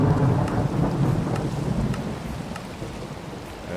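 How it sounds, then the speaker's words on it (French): Rumbling thunder rolls beneath steady rainfall in a Minecraft thunderstorm, the low booming strongest at first and fading while the rain continues. "Eh ben il rigole pas l'orage."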